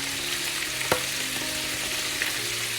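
Steady sizzle of a hot pan as annatto powder is stirred in while cooking kare-kare, a continuous bright frying hiss with a couple of soft utensil scrapes, no voices.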